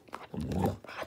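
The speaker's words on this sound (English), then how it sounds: "Good bark." A boxer mix dog gives a single short, low bark at close range, with a few quieter huffs around it.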